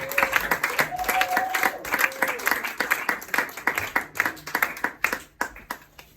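A church congregation clapping loudly in rhythm while the Lord is acclaimed during a French sermon service, sharp regular hand claps with crowd voices underneath, the beat loosening toward the end.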